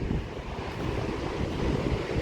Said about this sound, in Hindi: ये जो है अलकनंदा नदी बह के आ रही है